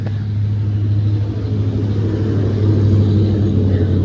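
A Ford Mustang Foxbody with an 8.8 rear end, 3.73 gears and a posi unit on a test drive, heard as a steady, loud low engine rumble and road drone from inside the car, with no speech.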